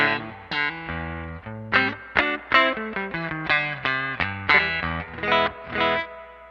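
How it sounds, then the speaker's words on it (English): An electric guitar plays a clean signal through a Deluxe Reverb amp, picking a rhythmic phrase of distinct ringing notes and chords, with nothing else heard. "So here's the clean signal with the deluxe reverb."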